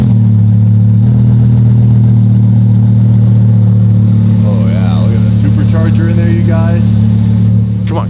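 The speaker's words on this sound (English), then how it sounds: "It's just the sound of a Huracan in general." A Lamborghini Huracan engine idles with a loud, steady low rumble that deepens slightly after a second, while a person talks over it.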